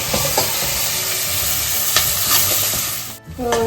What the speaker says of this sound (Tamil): ஆனியன் நல்லா வெந்துருச்சுங்க, வதங்கிருக்கு.